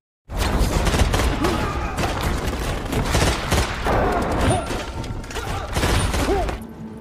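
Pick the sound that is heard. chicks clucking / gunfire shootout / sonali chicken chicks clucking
gunfire shootout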